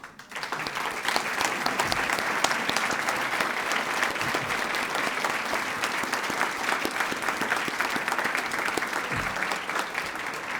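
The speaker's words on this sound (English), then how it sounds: "So would all the faculty please stand up for a round of applause?" Sustained applause from a ceremony audience honoring standing faculty, a dense, steady wash of many hands clapping throughout with no break, close and fairly loud.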